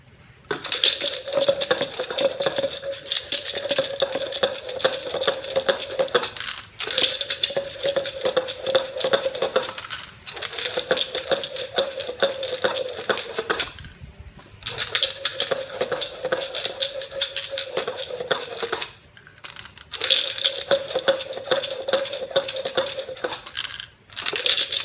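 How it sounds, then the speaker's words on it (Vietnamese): Six small dice rattled hard inside a cup, in four or five bursts of rapid clattering separated by short pauses, loud and close with no talking. "Mình sẽ lắc bằng 6 viên xúc xắc nhé."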